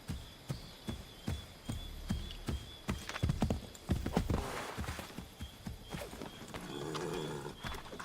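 Rhythmic hoofbeats of a horse clip-clopping along in Assassin's Creed III, sharp repeated strikes up close, quickening briefly before settling, with a soft snort or whinny near the end.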